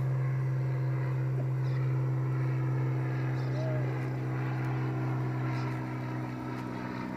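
A small Cessna 210 propeller plane flies nearby, a steady low droning hum that holds throughout and eases slightly toward the end, with voices speaking over it.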